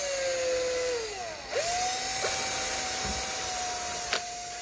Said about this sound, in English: I'm drilling the pilot hole, as it says in the manual